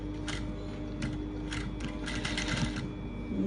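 Sewing machine stitching fabric for a baby girl's ruffled dress with a crinoline base, a steady close mechanical whir with short bursts of rapid needle clatter, alone without voices.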